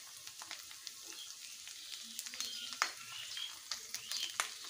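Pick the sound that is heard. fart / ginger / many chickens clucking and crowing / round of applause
ginger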